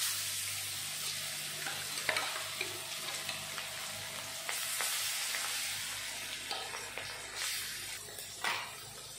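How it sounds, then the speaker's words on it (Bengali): Fish frying in hot mustard oil in a wok, a close, continuous crackling sizzle with scattered sharp pops and occasional scraping stirs, fairly quiet overall. "তেল গরম হয়ে গেল, এখন মাছ ভেজে নেব।"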